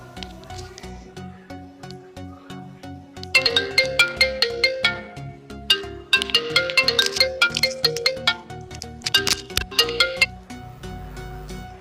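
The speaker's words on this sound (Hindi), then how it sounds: "यह है वो आईफोन 6 का रिंगटोन।" An iPhone 6 ringtone plays as a bright, bouncy marimba-like melody of rapid plucked notes, starting softly and then repeating loudly in phrases over a sustained backing.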